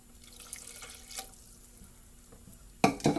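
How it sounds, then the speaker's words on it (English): Water is poured from a measuring cup into a bowl of homemade dinner-roll dough mix, heard as a brief, close splash and trickle near the end after quiet kitchen clinks and drips. "Now I'm going to pour a 1/2 cup of water."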